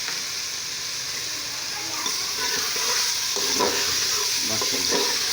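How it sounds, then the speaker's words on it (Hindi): Vegetables stir-frying in a hot pan for a macaroni dish, steady sizzling with scraping and stirring clatter growing busier midway, close and moderately loud with no talk. "और अच्छी तरह भूनेंगे।"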